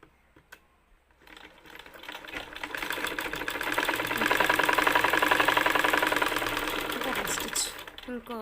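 An electric sewing machine runs a fast, continuous double stitch along a blouse seam, building from a few starting clicks into a steady rattling whir that stops near the end.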